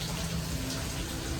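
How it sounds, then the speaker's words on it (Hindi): Heavy rain pours down outdoors in Mumbai, a dense, steady hiss of falling water that stays constant through the brief stretch. "मुंबई में बहुत ज़ोरों से बारिश हो रही है"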